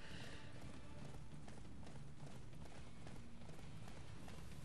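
A horse gallops in the Attack on Titan: Wings of Freedom video game, its quick rhythmic hoofbeats soft and continuous over a low, dense background rumble.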